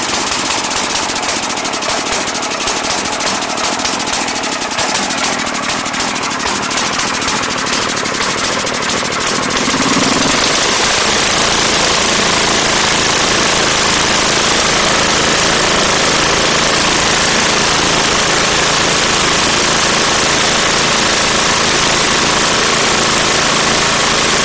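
A Tecumseh 8.5 HP engine on a White 26-inch snow blower, which has a surging and backfiring fault, fires up. It runs loud and close with rapid rough knocking for about ten seconds, then settles into a steady harsh roar.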